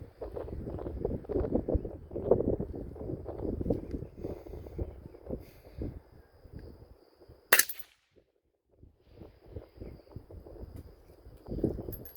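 A single sharp rifle crack at an outdoor shooting range while testing M2 Ball clone ammunition, standing out loudly against wind noise and low murmuring voices before and after.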